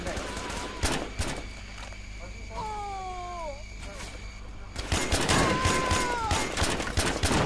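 Gunfire in the military shooter Joint Operations: Typhoon Rising, with repeated sharp shots and bursts over a game soundscape, loud and close, with radio-like tones and voices in between.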